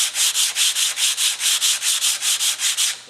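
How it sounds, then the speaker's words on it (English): Hand sanding out scratches on Osmo hardwax oiled wood, about fourteen even back-and-forth rubbing strokes in a steady quick rhythm, close and clear with no talking. "we'll see if we've been able to sand out the scratches"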